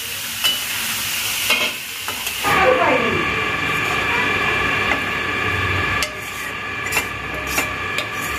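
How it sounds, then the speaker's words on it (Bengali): Tender bottle gourd stir-fried in a pan for sweet gourd halwa gives a close, steady sizzle broken by repeated scraping strokes of a spatula against the pan, with a louder burst of frying partway through. "লাউটাকে ভালো করে ভেজে নিতে হবে।"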